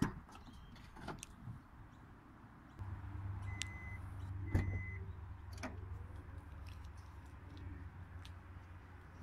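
An electric tailgate on a 2016 Kia Carnival Platinum whirs steadily from its motor, with a couple of mechanical clicks and a latch clunk near the start.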